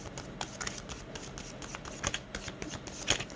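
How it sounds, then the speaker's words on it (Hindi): Tarot guidance cards are shuffled and drawn from a deck, a soft, close riffle of papery flicks and slides with a few sharper snaps. The sound is quiet and no one talks over it. "एक गाइडेंस कार्ड लेंगे आपके लिए यहाँ पर इस डेक के साथ"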